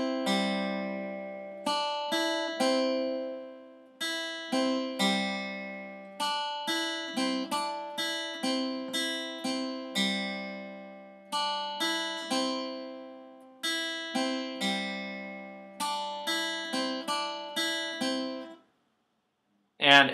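Guitar playing the interlude of a song, a long run of clean picked chord patterns with repeated rhythmic phrases, ringing clearly and alone, ending in a short pause and a final burst.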